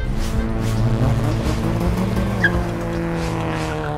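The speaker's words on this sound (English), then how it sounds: "It sounds like racing cars." Racing cars roar past with engines humming and tires squealing in a skid, loud and close for several seconds.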